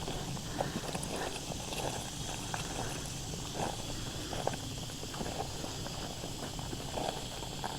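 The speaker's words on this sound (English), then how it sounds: "I'm just taking the goats for a little walk so they can forage" Goats walk along on an early-morning foraging outing at a ranch, their hooves giving soft, irregular steps over a steady hiss of loud cicadas in mid-August heat.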